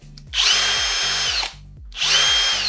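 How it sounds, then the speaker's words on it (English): A power drill whirs at high speed for about a second, pauses briefly, then spins up again, loud and close. "I want to see how effective this drill is"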